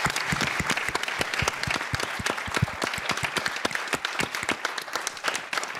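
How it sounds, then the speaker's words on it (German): Audience at a university lecture-series event applauds the helpers, a dense, steady round of many hands clapping close by, sustained throughout with no talk over it. "Und also von daher einen ganz herzlichen Applaus mal an alle"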